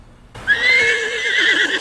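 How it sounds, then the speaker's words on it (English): Cartoon horse gives one loud, close whinny that starts abruptly and wavers for over a second, with no talking over it. "another girl named Sublimity Jill jumps aboard with her horse, Larry."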